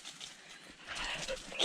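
A small puppy whimpers softly in brief, faint whines amid outdoor background noise, growing slightly louder toward the end.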